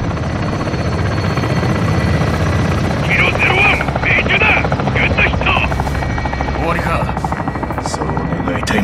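Military helicopter in a Call of Duty Modern Warfare 2 combat mission, a steady loud rotor drone throughout with game battle noise and brief radio-style voices in the middle.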